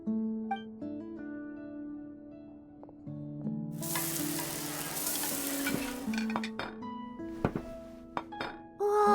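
Food sizzles and is stirred in a pan in a Genshin Impact cutscene, with soft clinks and thunks of cookware over light background music, moderately quiet and close.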